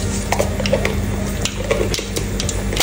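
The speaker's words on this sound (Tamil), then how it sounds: "ஆயில் காய்ச்சிட்டு இதில் கொஞ்சம் கடுகு போட்டுக்கலாம்" Mustard seeds hit hot oil in a pan for a fish curry tempering and crackle steadily: a dense, close sizzle with scattered sharp pops and spoon scraping against the metal pan.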